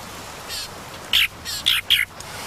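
Galapagos mockingbirds call during a territorial display, giving several sharp, loud squawking bursts in quick succession, close by, over a soft background hiss.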